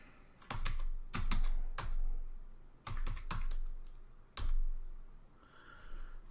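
Close keyboard typing of a find command on a Linux terminal: short bursts of quick key clicks separated by brief pauses, quiet and alone.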